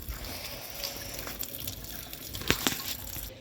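Water runs steadily from a household tap on a morning during the Uttarayan kite festival, a soft, continuous hiss with a couple of brief splashes near the end, fairly quiet and heard alone without speech.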